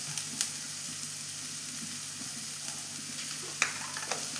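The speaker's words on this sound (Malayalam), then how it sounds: "വെളിച്ചെണ്ണ കാഞ്ഞിട്ടുണ്ട് ഗേസ് ഞാൻ അതിലേക്ക് ഉള്ളി ഇട്ട് കൊടുക്കുന്നുണ്ട്" Onion sizzling in hot coconut oil for an egg masala stir-fry, a soft, steady crackle held at low level throughout, with a few sharper pops and stirring clinks.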